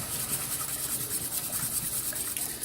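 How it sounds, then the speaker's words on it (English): A whisk stirs milk into a cheese sauce in an Instant Pot for au gratin potatoes, making a steady, close scraping and swishing that runs on without a break and with no talking. "I'm going to start whisking that"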